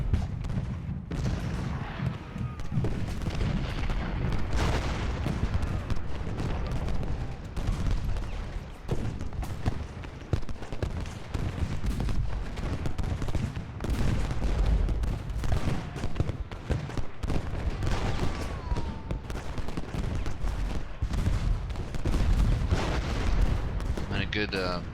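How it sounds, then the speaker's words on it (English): Sustained artillery fire and gunfire in a video game battle, with booms and bursts continuing steadily and loudly throughout, a voice speaking over the barrage at times. "Artillery couldn't have came any sooner."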